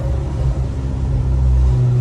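A Volkswagen Golf 6 R engine rumbles with a deep, steady drone, building slightly as it revs, heard from close inside the car.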